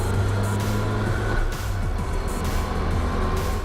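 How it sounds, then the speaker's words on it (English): An autocross car's engine held at full throttle through a gear change without lifting, a continuous loud engine roar with brief pitch sweeps, close and steady throughout. "so now it's a flat on the floor with the throttle and pull it in gear. Don't have to lift the shift."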